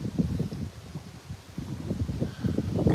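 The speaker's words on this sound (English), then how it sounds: "Oh, it is windy out here. Very windy." Strong wind buffets the microphone outdoors in Paris, a steady low rumbling roar with gusts that swell and fade throughout, loud and close with no other sounds standing out.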